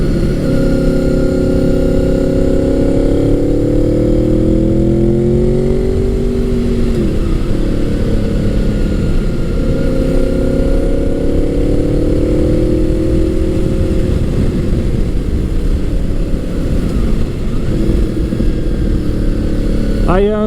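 A Gen 5 Honda VFR800 V4 (1998-2001) is ridden on the road with a loud, steady engine drone. Its pitch climbs and drops repeatedly as the bike accelerates and shifts.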